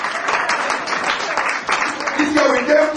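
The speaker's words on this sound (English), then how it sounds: "Clap your hand." A church congregation claps along steadily with a dense, continuous wash of handclaps filling the hall, loud and close, with a voice rising faintly beneath near the end.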